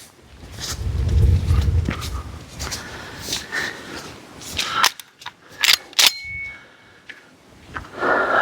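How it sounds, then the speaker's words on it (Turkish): A Gökkurt triangle-barrel tactical shotgun fires 32-gram No. 6 shot at a target. A loud opening blast rumbles out, followed later by a few sharp, close cracks with faint metallic rings between them. "Şimdi bunlarla da hedefe 12, 24, 36'dan 3 atış yapacağım."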